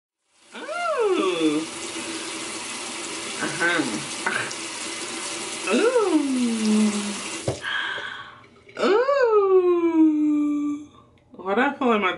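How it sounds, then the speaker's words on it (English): A bathroom tap runs in short bursts while someone rinses their mouth, the gushing water starting and stopping several times with gurgling and spitting between, close and fairly loud. "I'm gonna rinse my mouth really, really good"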